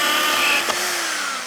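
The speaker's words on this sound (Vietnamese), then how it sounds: "Hãy cùng xem Phụng sẽ khoan trên bề mặt của gỗ nó đơn giản như thế nào quý vị nha" A multi-purpose electric drill from a tool kit bores into a wood surface, a loud continuous whirring motor drone with a slight dip and bump midway, close up and without speech.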